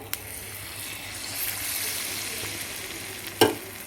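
Oil sizzling quietly in a pan for masala paniyaram, a soft steady hiss with light stirring, then one sharp close clack of metal near the end.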